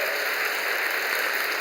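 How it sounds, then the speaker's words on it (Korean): Steady, loud applause from a church congregation welcoming new members, a continuous dense patter of many hands clapping with no voices over it. "교우 여러분은 큰 박수로 환영하여 주시기를 바랍니다"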